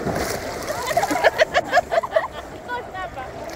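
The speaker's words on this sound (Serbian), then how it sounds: "Sad ide jedan skok za CPU." Water splashes in quick succession as someone jumps in during a trip, a burst of sloshing and splatter up close, then quieter lapping.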